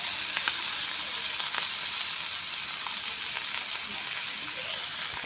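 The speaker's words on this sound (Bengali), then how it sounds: "দেখুন বন্ধুরা মাছটা আমাদের প্রায় ভাজা ভাজা হয়ে গেছে" Small whole hilsa fish, nearly done, sizzle steadily in hot oil in a pan, a constant even hiss with scattered light pops and no voices.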